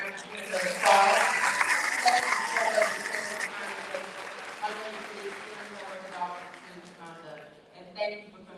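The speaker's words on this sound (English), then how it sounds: "please give Ms. Linda a hand round of applause" A round of applause for Ms. Linda at an evening gathering. Clapping swells loudly for the first few seconds, then thins and fades as a voice talks over it.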